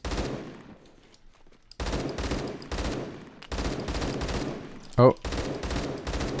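Bursts of AK12 rifle fire in the Roblox game Phantom Forces, rapid rattling volleys separated by short pauses, with one sharp loud hit near the end and a brief spoken exclamation.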